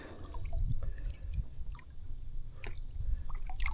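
A kayak paddle, worked one-handed on a river, dips into the water in soft, irregular splashes and drips, faint and close against a quiet outdoor background.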